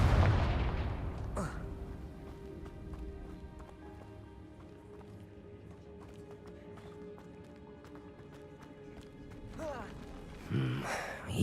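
A Confringo fire spell blasts with a loud, booming burst in Hogwarts Legacy, followed by a low rumbling ambience and another surge of impact noise near the end.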